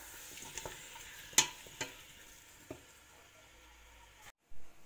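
Faint, soft sizzling of meat frying in a pan until its liquid cooks off, with a few light clicks and knocks of a utensil.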